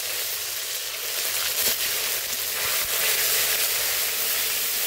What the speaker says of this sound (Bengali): এবার বেটে রাখা পেঁয়াজ দিয়ে দেবো।